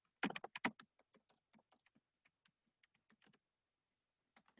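Typing on a computer keyboard, a quick cluster of close, crisp key clicks that thins into sparse, irregular taps, quiet and alone with no voices.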